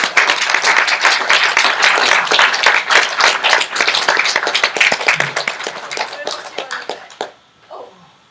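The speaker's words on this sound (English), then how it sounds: "how about a big round of applause for the people who are making" An audience breaks into loud, close applause, with sharp individual claps packed densely for about seven seconds before tapering off and stopping, followed by a faint voice.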